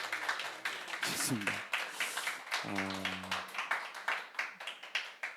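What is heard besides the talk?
audience applause welcoming book authors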